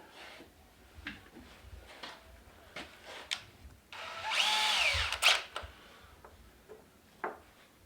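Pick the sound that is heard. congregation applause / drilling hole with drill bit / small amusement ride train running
drilling hole with drill bit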